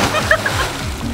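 A person lands in a backyard pool off a water slide, making a brief splash and slosh of water with voices over it.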